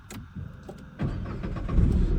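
A Renault Kwid compact car's engine cranks and catches, then settles into a steady, rising hum as it pulls away, heard from nearby without talk.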